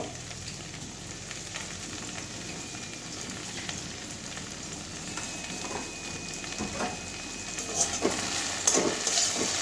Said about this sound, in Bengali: আবারও মিশিয়ে দিচ্ছি গরম মশলাটা ভালো করে